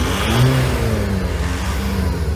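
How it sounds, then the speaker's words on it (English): A fast diesel car running on chip oil pulls hard in fifth gear from about 50 mph on a Nürburgring lap, its engine droning loud and close in a steady, continuous rising roar. "that's a fast diesel running on chip oil"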